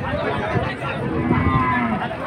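Cattle low loudly and close by at the Hazratpur livestock market in Bangladesh, one drawn-out moo filling the short moment with no talk over it.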